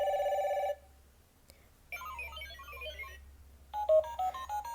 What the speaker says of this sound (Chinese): 它不同按钮会有不一样的电话铃声。